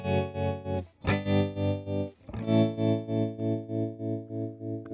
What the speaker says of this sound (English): That is totally normal standard tremolo. The volume is pulsing up and down.